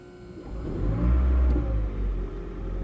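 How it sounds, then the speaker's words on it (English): A high-mileage Toyota Prius with 203,000 miles fires up its gasoline engine, a steady close rumble that swells and idles evenly, with no talk. "Let's hit the gas pedal. That'll activate the gasoline engine."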